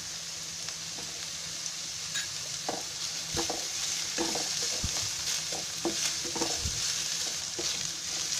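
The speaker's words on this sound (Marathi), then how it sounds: "आता याच्यामध्ये आहे ना, मी अद्रक लसूणची पेस्ट टाकते." Ginger-garlic paste frying in hot oil over a high gas flame, a continuous bright sizzle with scattered stirring scrapes and taps throughout, close and fairly quiet.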